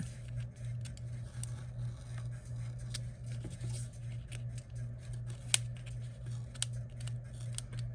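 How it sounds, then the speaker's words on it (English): An X-Acto knife slowly cutting paper on a composition book cover, a series of faint, scratchy slicing strokes over a steady low hum. "I'm just going to use a little X-Acto and cut it that way"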